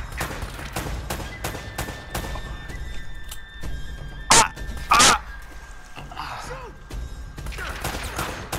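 Gunfire from Uncharted: Drake's Fortune, a run of sharp game gunshots with two louder bursts in the middle, over a busy game soundtrack and background noise.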